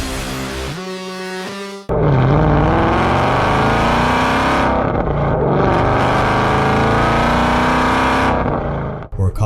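A blacked-out 2018 Mustang GT fitted with a Whipple supercharger, heard loud and close as a rising whine through a sharp rev and then a long sustained high-rpm roar with rough harmonics before cutting off abruptly.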